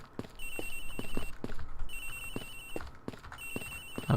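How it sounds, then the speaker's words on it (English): A phone rings repeatedly in the Ace Attorney Investigations video game, a trilling electronic bell sounding in three evenly spaced bursts over soft background game sound and rhythmic thumps, with no talk. "Agent Hick's phone! It's ringing here somewhere, sir."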